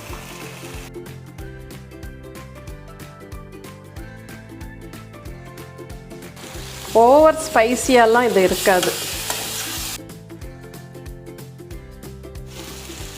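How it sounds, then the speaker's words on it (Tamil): Chicken pieces go into a pan of softened tomatoes for a country-style chicken koottu, with loud stirring and sizzling for a couple of seconds under a quieter steady fry, while someone talks quietly over it. "இப்போ நம்ம சிக்கனை போட்டுடலாம்."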